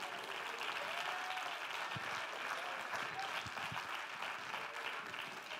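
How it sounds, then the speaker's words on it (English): Congregation clapping hands during a church sermon, a steady dense wash of applause that holds for several seconds at moderate distance, with a faint voice murmuring underneath. "Clap your hands unto him."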